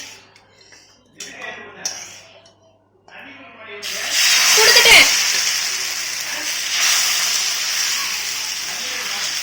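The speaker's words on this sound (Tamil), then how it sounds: "இப்போ வந்துட்டு இன்னொரு தோசை ஊற்றி காமிக்கிறேன்." Rava dosa batter hits a hot pan: after a few seconds of quieter kitchen clatter, a loud, steady broadband sizzle and hiss bursts in and holds to the end.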